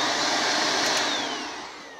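A Shark Rotator Powered Lift Away vacuum cleaner runs steadily as an upright on a bare floor, its loud, close motor whine continuous and easing slightly toward the end, with no talking.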